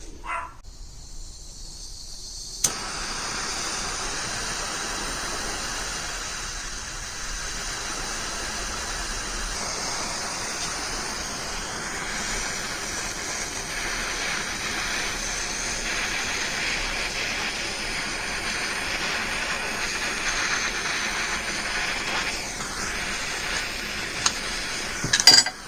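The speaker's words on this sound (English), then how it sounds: "So the plan is to use a gas torch." A gas torch with a wide nozzle hisses steadily while desoldering a B and W Protax 375 coaxial antenna switch, a constant broadband rush that starts after a brief pause and holds at even loudness to the end.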